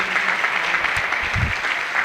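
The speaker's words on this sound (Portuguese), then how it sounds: "Aplaude o Senhor pela vida deles." A brief burst of audience applause fills a spiritual wellness talk, a dense, steady wash of clapping with no distinct individual claps standing out.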